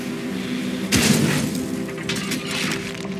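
A car is wrecked in the action video game Just Cause 3, with a sudden crashing boom of smashing metal and glass. Rumbling game noise and smaller impacts follow.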